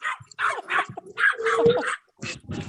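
A dog barks close by in a rapid run of sharp yips and whimpering barks, pausing briefly before barking again.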